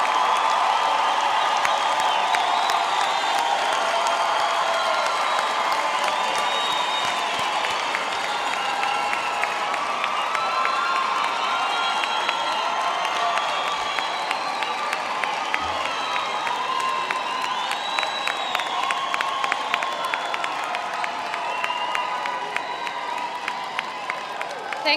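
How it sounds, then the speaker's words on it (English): A graduation audience applauds and cheers for the graduates as they rise, a dense, sustained wall of clapping with whoops and shouts running steadily throughout. "Let's give them a big hand of applause for all their hard work."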